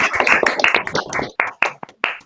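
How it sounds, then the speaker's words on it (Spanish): Scattered clapping from online seminar participants over open microphones, a few pairs of hands patting unevenly and close up, thinning into isolated claps toward the end. "abrimos micrófonos y eventualmente cámaras para ofrecer un aplauso a nuestro expositor"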